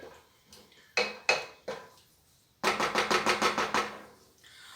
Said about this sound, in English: I'm going to add a lid.